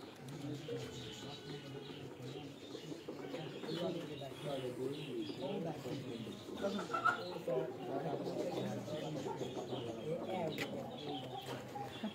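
Close cooing and soft throaty calls from fancy pigeons held by hand among a breeder's collection, a steady layered murmur of coos running the whole time beneath ongoing talk from men nearby.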